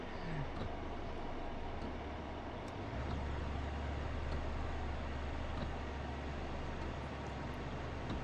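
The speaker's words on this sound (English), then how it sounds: "That's the only train that will pass coming the other way" Train passing on the opposite track in Train Sim World 3 on the West Cornwall line, a steady low rumble and rolling drone that deepens and thickens partway through, continuous and fairly loud with no talk.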